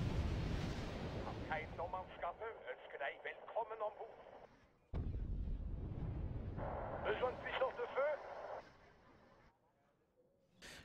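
Napalm and cluster bomb explosions in the Wargame Red Dragon video game, heard as two loud, rumbling bursts of game combat audio with crackling debris, separated by a brief drop before fading near the end.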